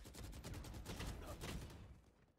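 Gunfire in the video game Valorant crackles in a dense burst of rapid shots, steady and fairly loud, tapering off at the end.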